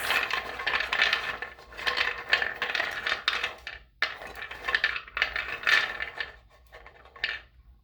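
Rune stones rattling in a bowl, a close, quiet clatter of small hard pieces clicking and knocking together in repeated shaken bursts with short pauses between.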